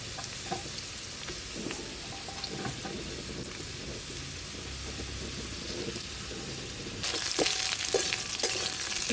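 Cauliflower pieces added to potatoes frying in a pan hiss and crackle steadily with scattered stirring scrapes, and the sizzle grows suddenly louder and brighter near the end.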